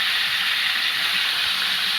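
Chicken pieces go into a hot pot for a homemade chicken soup, raising a steady, loud, broadband hiss of sizzling that holds evenly for about two seconds, with no one speaking.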